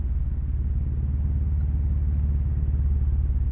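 A steady low droning rumble, like distant air traffic, from a Yume Nikki game soundtrack, holds evenly throughout with no other sounds standing out.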